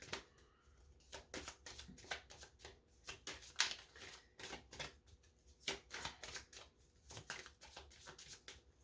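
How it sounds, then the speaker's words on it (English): A tarot deck is shuffled and cards are pulled, producing a quick series of soft riffling snaps and flicks at close range, irregular in rhythm, with no talk. "I'm gonna pull some more cards on that because"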